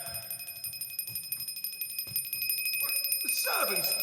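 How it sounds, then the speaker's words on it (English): An old servants' bell rings in a period drama scene, with steady rapid metallic ringing throughout that grows louder and is joined by a brighter jangling near the end. "The servants' bell?"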